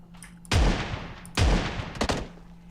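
Gunfire in PUBG Mobile: two loud, booming shots about a second apart, each with a decaying tail, followed by a quicker cluster of sharper cracks, all close and with no talk.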